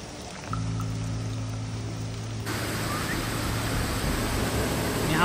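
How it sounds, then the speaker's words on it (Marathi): Water rushes along a stream on the Bhimashankar trek, a steady broadband wash that grows louder partway through and holds close and unbroken with no speech. "हा ओढा आहे"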